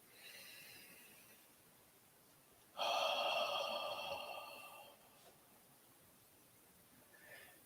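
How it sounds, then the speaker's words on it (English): Slow deep inhale and exhale during a guided meditation practice, a faint airy rush rising sharply then fading over about two seconds, followed by quiet, close and alone. "Take a deep breath."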